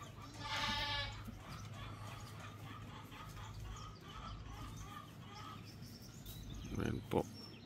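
Goats bleat in a small farm pen, a few calls rising over a steady low background, with clucking chickens and a person talking nearby.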